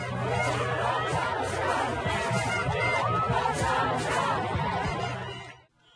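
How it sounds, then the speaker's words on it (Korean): Large street crowd outside the Trump hotel in New York cheering and chanting as Biden's victory is confirmed, a loud, dense roar of many voices sustained for nearly six seconds before cutting off. "뉴욕의 트럼프 호텔 앞에 몰려든 인파가 손을 흔들며 환호합니다."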